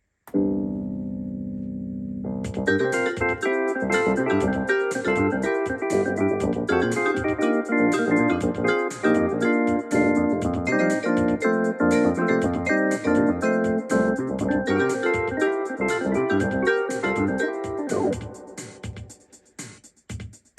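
A recorded song played back on a Technics AX7 keyboard in an organ voice, with steady layered chords and melody running continuously before fading out near the end; no one speaks.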